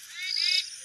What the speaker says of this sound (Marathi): पक्ष्यांचा असा चुचवाट चाललाय.